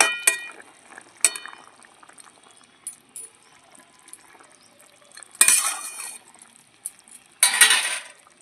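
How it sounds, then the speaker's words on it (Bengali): Pre-fried bata fish pieces drop into a simmering green tomato curry in a pot: early sharp clinks of a utensil on metal, then two loud, close bursts of splashing, bubbling liquid a couple of seconds apart, with no voices. "ভেজে রাখা মাছগুলো দিয়ে দিচ্ছি"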